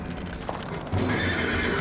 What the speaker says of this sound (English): The neighing of horses, the shouted commands, the clattering of arms